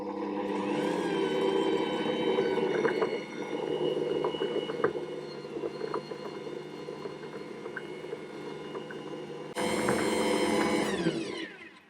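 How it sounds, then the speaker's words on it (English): An Ankarsrum stand mixer works sticky rum baba dough, a steady motor whir with a rhythmic churning slap and faint clicks, loud and close, swelling sharply toward the end before cutting out. "mixing the whole time until I have a smooth and very sticky dough"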